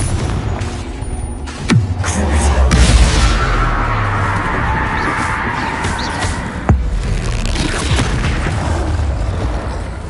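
Loud blasting spell explosions in a wizarding video game, heavy booming bursts with sharp crackling impacts, two especially sharp blasts standing out over a continuous rumbling roar.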